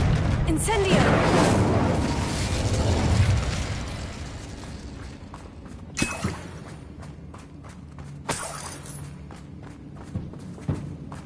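Incendio fire spell in the video game Hogwarts Legacy: a roaring whoosh of flame swells and dies down, then several sharp, scattered pops and bursts follow at intervals over quieter background.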